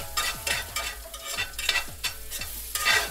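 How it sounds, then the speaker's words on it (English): Food is tossed and stirred in a wok-style pan over high heat, giving repeated scraping, sizzling sweeps at a steady rhythm, close and fairly loud, with no talking. "So just like you're in a wok, you're just gonna move it around all the time."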